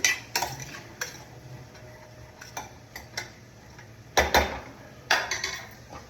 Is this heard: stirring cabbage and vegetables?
yes